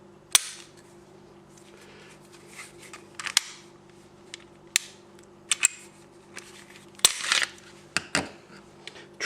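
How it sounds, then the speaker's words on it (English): Metal parts of a Smith & Wesson Sigma SW40VE pistol clack and snap during disassembly, a scattering of sharp, close clicks spaced irregularly over a low steady hum. "let's break the gun down and get this spring changed"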